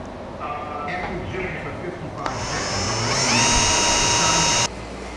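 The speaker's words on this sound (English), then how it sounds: "we're drilling both the bulkhead flanges and the edge flange" A power drill bores through aluminium bulkhead and edge flanges on a Zenair amphibious float kit, a steady rising motor whine building over a few seconds then cutting off abruptly, close and fairly loud over a noisy workshop background.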